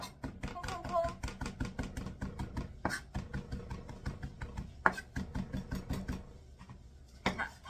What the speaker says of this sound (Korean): 이번에는 새우젓을 좀 다져서 사용을 할 거예요